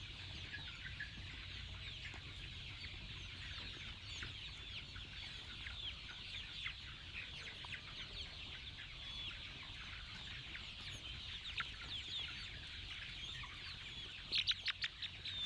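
Small chickens in a backyard coop keep up a soft, steady clucking and peeping, with a brief flutter near the end, over a quiet hiss.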